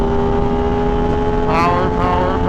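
A 2026 Aprilia RS660 Factory motorcycle pulls hard under acceleration, its engine a loud, steady drone heard close from the rider's position, with wind rush rising briefly partway through.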